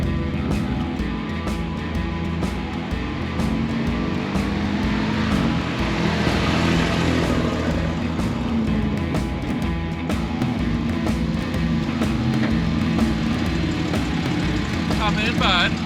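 A 50-year-old Volvo 164E car drives along a road with its mid-pitched engine running steadily throughout, close and continuous, while people talk over it.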